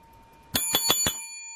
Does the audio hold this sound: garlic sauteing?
no